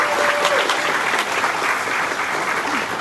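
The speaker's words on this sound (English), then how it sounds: "huge round of applause for Sue Hand for making all this happen." An audience at a middle school ribbon cutting ceremony in Brevard applauds, a loud, dense, continuous wash of many hands clapping that holds steady throughout.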